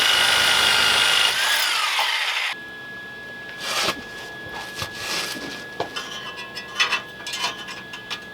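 A power cutoff tool slices through exhaust pipe for a Foxbody Mustang, loud grinding whine that winds down, followed by scraping, clinks and handling of the metal.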